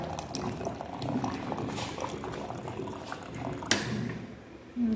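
Hot water pours and bubbles in a steady liquid rush, with a sharp knock near the end and a short burst of something else just after it.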